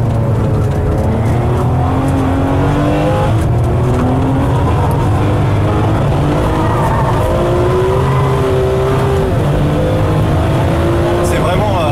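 A Ferrari 599 GTB laps the Fiorano track, its engine roaring loud and close as the revs climb and drop through repeated gear changes. Someone talks over the steady engine drone throughout.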